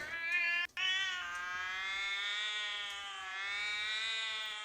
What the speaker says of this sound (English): It sounded like a cat screeching after having its tail stepped on.